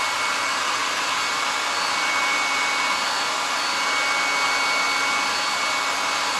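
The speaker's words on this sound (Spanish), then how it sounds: "Ven, ahora estoy secando con el secador de pelo." A hair dryer blows on wet paint during a colour painting lesson, giving a steady, close, unbroken whoosh of air with no talking.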